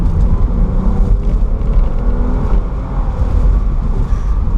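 A 2014 Lexus IS350C F Sport with a 6-speed automatic cruises along a coastal road, giving a loud, steady low rumble of engine and road noise inside the cabin with no one talking.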